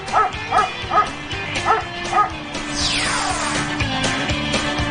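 A police dog barks in a rapid run of sharp, loud yips and bow-wows at a fleeing felon, then a long falling whine or squeal and steady background rumble take over.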